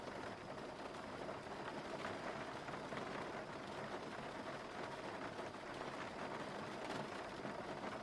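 Steady rain patters continuously in the X-Plane 12 flight simulator during a Boeing 737-800 flight, a faint, even hiss with no voices.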